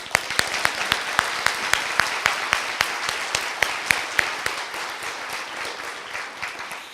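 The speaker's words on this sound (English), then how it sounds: "let's give a big round of applause for the Legacy Dream" An audience at a Martin Luther King Jr. unity breakfast applauds steadily, with sharp individual claps standing out in a regular rhythm over the softer wash of hands, then fading slightly near the end.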